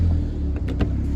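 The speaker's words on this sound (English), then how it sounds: "Just give it a bit of revs there." A Ford Escort RS2000 engine runs steadily, with a low rumble and a slight rise in revs partway through, recorded close while the car is being checked for a water leak.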